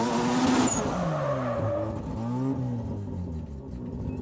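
Rotary-engine race car drifting, its engine note rising and falling in loud sweeping harmonics with tire noise, close and continuous without speech.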